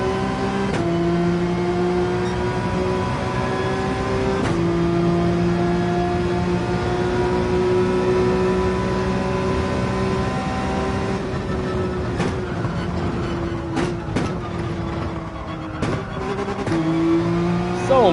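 Race cars in Gran Turismo 7 on the Dragon Trail circuit, loud steady engine drones that rise and fall as gears shift, several cars close together, with occasional sharp clicks and thumps.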